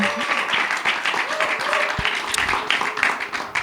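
Audience at a Christian gathering applauds and cheers, a dense, steady wash of clapping lasting a few seconds with voices mixed in.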